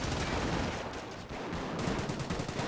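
Rapid bursts of US .30 cal machine gun fire from a deployed support weapon in a Company of Heroes battle, a dense, continuous rattle of gunfire with distant explosions layered through it.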